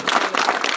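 Applause from an audience at a village school prize event, a dense burst of many hands clapping at close range, sustained and fairly loud for under a second with no talk over it.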